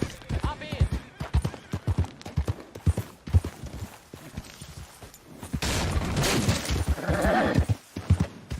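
Horse in the video game Red Dead Redemption II, sharp neighs and clip-clopping hooves among scattered impacts and bursts, with voices talking over parts of it.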